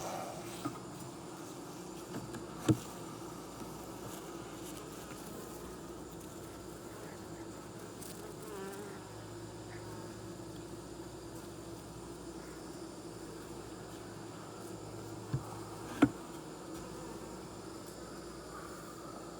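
Honey bees hum in a steady, low drone around an open beehive during an inspection of a colony left unchecked for three months, with a couple of brief knocks over the continuous buzz.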